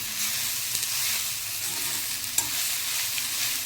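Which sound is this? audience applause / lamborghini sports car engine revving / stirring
stirring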